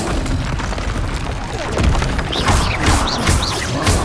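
In Hogwarts Legacy, a Confringo fire spell blasts with a deep booming explosion and crackling debris, followed by whooshing magical bursts and rising sparkle sounds, loud and close.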